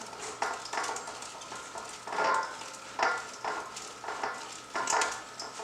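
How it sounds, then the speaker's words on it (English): Two bars of soap are rubbed down a cheese grater, a rhythmic rasping scrape repeating roughly once a second, close and moderately quiet. "So I have 2 bars of soap and I'm just going to grate them."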